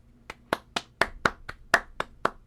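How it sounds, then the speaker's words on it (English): A single pair of hands claps about ten times in a steady, slightly uneven rhythm, sharp and close, with no voices. "I'm giving them a round of applause"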